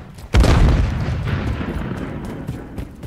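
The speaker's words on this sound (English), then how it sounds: "Stun grenade out!" A stun grenade detonates in a video game, a sudden heavy boom with a long rumbling decay that trails off over a few seconds, loud and close.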